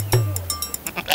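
A Texel sheep, a meat breed, gives a quick series of short bleats close by, with faint background noise.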